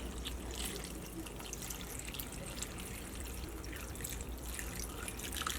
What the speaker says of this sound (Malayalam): ഇതിലേക്ക് നമുക്ക് കഷ്ണങ്ങൾ വേവിച്ചെടുക്കാൻ വേണ്ടിയിട്ട് വെള്ളം ചേർക്കാം.